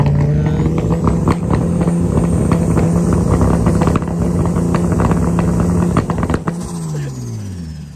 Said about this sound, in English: So the boys are just testing out some of the cars there